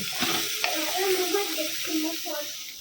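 Daliya being stirred in a hot pan with spices such as cumin, giving a soft continuous sizzle and scraping, with a voice faintly audible behind it.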